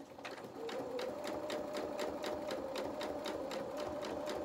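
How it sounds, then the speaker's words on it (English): A domestic sewing machine stitches steadily across the edge of a small fabric pinafore, a continuous close whirring motor with a fast, even needle rhythm throughout. "taking our time, we can now sew across to this edge just here"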